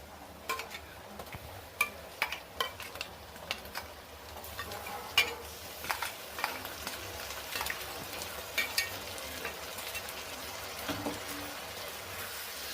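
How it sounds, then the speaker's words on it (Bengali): Ginger-garlic paste fries in oil while being stirred in a pan for a spicy Bangladeshi country chicken curry: a faint, steady sizzle broken by sharp, irregular clicks and scrapes of the spoon. "এবার এতে আদা রসুনের পেস্ট দিয়ে দেব"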